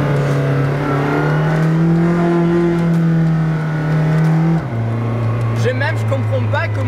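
A loud, deep McLaren Senna engine drones steadily nearby, its pitch rising slowly before dropping abruptly, then settling into a lower rumble.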